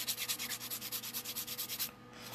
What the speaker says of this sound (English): I'm going to take a 240 grit file, and I'm going to bevel out the inside